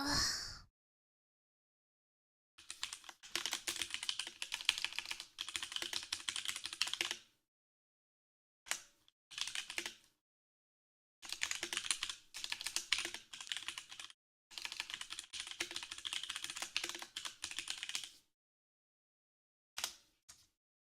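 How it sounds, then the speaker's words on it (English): Rapid, crisp clacking of a computer keyboard comes in bursts of typing separated by silent pauses. Close and clear, with no talk. "Typing for 45 minutes is a really long time."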